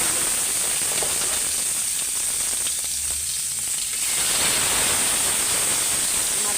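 Three pieces of fish frying in hot oil until crisp, a steady dense sizzle and crackle running loud and continuous throughout with no voices.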